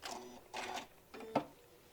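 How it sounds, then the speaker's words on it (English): A sewing machine stitches across fabric and a ribbon in short bursts of mechanical whirring, three runs in two seconds, close and fairly quiet. "putting it back on my 1/4 inch, and just stitching across and going over that ribbon"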